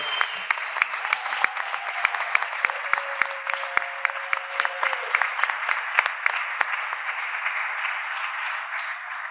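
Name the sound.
audience applause at a panel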